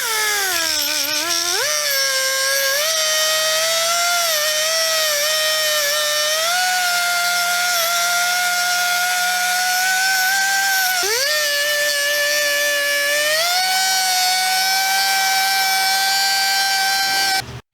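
Rough cutting disc on an angle grinder cutting down a wheel bearing on a car wheel hub, a loud continuous high whine that dips in pitch as it bites into the metal, then rises again with each pass.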